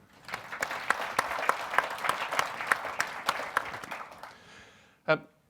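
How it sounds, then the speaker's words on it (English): Conference audience clapping in a brief burst of distinct hand claps that thins out after a few seconds, ending with a sharp louder knock near the end. "One more round of applause, please."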